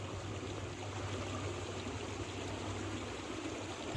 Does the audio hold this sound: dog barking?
no